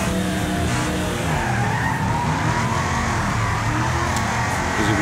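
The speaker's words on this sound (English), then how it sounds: "if you just floor the damn thing, the back end spins around" Race car in the Wreckfest video game spinning out, loud continuous tire skidding and engine roar throughout without a break.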